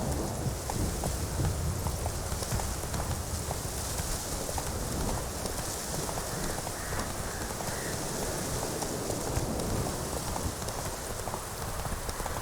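Roach the horse gallops in The Witcher 3, hooves pounding in a fast continuous clip-clop under a steady rain-like hiss.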